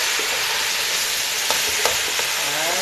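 Okra sauce with oxtail is stirred in a pot over a continuous sizzling hiss, with a few sharp spoon clinks against the pot scattered through the stirring.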